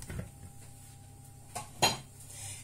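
Potato wedges tumble into a baking dish for oven-roasted vegetables, giving a couple of quick clinks and clatters near the end over a quiet kitchen background.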